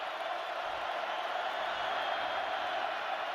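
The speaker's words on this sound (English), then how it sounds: "OU defensive players asking the crowd to make some noise." Steady roar of a college football stadium crowd at an Oklahoma Sooners versus Kansas Jayhawks game, a constant broadband wash of many voices without distinct peaks, loud and continuous throughout.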